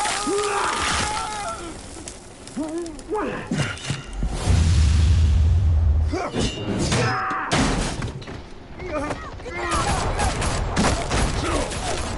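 Gunfire crackles through a dense, chaotic scene in Batman: The Telltale Series, with heavy thuds and shattering bursts mixed with voices and loud game effects.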